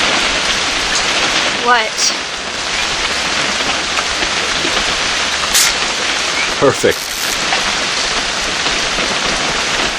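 Steady rain pours in the video game What Remains of Edith Finch, a loud, continuous hiss of drops on surfaces throughout, with brief voices speaking over it.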